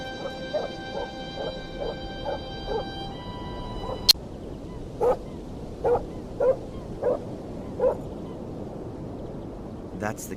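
A dog barks several times from inside a cage in the Black Mirror II video game. The barks are short and evenly spaced, heard over a low background, and a sharp click sounds just before them.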